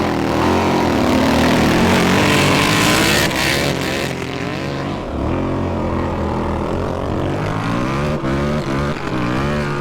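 A KTM 950 Adventure motorcycle on an off-road drag course at full throttle through third gear, a loud, continuous engine roar holding strong and rising in pitch, with a brief dip and recovery midway, no talk.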